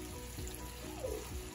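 Water pours into a cooking pan with a faint, soft trickle, quiet and close, over a short stretch.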